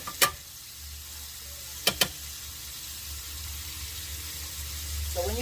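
Chicken thighs frying in oil, giving a continuous soft sizzle, with a few sharp clicks and taps near the start.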